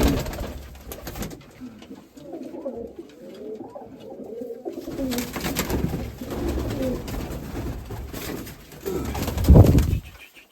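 Mykolaiv pigeons coo in a low, rolling series close by, first alone and then beneath scattered handling noise and rustling, with a louder burst of fluttering or bumping near the end.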